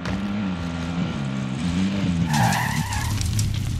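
A car skids with a loud squeal of tires in a multiplayer shooter video game, its engine droning low and steady as the tires screech sharply near the end.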